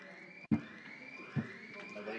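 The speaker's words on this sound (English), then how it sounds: "I think it's the alarm system." A building alarm system sounds during a Common Council meeting, a steady electronic tone held under the room with a brief cutout and a couple of thumps, while people talk nearby.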